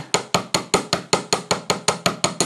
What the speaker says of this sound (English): hammer that flat